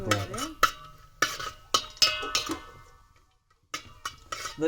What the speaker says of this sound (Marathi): काजू बदाम आपण टाकले ते पूर्ण फक्त असे परतून घ्यायचे